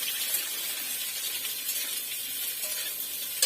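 Onion and capsicum frying in hot oil in a pan, giving a steady, loud, close sizzle that continues without a break while the food is stirred.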